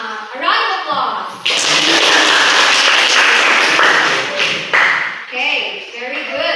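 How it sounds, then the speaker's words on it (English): A classroom of children gives a round of applause during a teaching demonstration, a dense burst of clapping lasting several seconds, with brief talk before and after. "let us give a round of applause."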